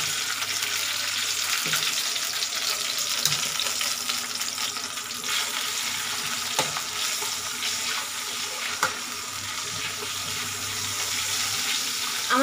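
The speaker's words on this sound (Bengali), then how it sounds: "তেলটা আমার গরম হয়ে গেছে। এবার আমি আস্তে আস্তে আলুগুলো দিয়ে দিচ্ছি। আলুগুলো ভাজা হবে।" Potatoes fry in hot oil in a small home kitchen, a continuous crackling sizzle with occasional stirring clinks and knocks, steady and moderately close with no talking.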